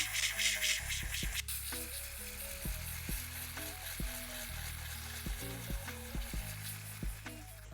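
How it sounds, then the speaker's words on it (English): Portable electric nail file with a fine grit sanding band buffing the surface of dip powder nails, a continuous fine gritty whir with short stops and restarts, close and alone without talk. "taking the professional portable e-file and a fine grit sanding band, and I'm just going to be filing the surface of the nail"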